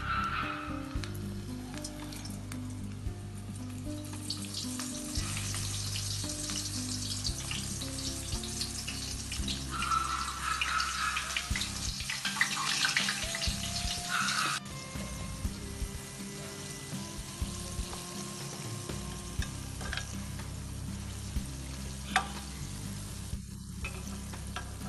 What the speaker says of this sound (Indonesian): Lalu rendam di tepung yang cair, kita goreng ya.